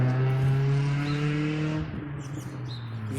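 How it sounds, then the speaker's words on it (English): A loud four-cylinder car engine, a strong steady droning hum with bright harmonics that then drops and roughens into a lower, uneven rumble, close and dominant. "Just because you have a loud car doesn't make you cool"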